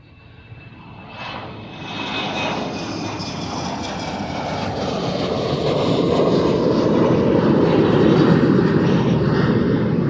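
An Aer Lingus airliner passing at Amsterdam Schiphol airport, its jet engine roar building from a moderate rumble into a loud, broad, sustained drone that holds strong to the end with no voices.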